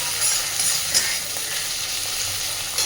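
Prawns frying in oil in a pan, a bright, steady, close sizzle with a faint stirring clink near the start, no one speaking.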